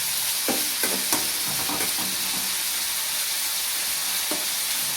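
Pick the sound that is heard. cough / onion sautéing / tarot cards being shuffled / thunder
onion sautéing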